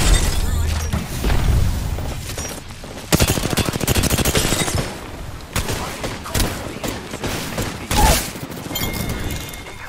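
Arc star grenade going off in a video game amid heavy gunfire: sharp bursts and booms land repeatedly over rapid automatic fire, loud and close, with a voice talking now and then.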